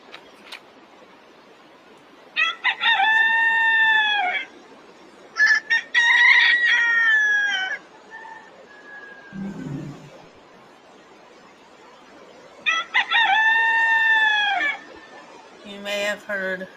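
A rooster crows three times, each call loud, drawn out and close, with a few brief clucks and other small sounds between the crows.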